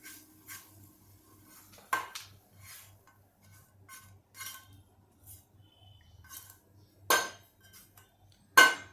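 Metal utensils and a pan clink and clatter in a home kitchen, several sharp knocks standing out over a quiet background, no voices.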